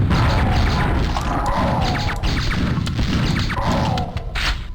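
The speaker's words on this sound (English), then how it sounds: "Explosions fits everything." Explosions and rocket blasts in the video game Aftershock, heard as a dense, continuous roar of crashing booms and thuds with repeated sharp impacts layered over one another.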